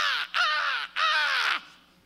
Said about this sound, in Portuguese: foi um corvo, né?